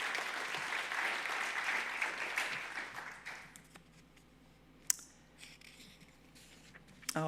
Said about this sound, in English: So all of the nominees and Troy, just another round of applause.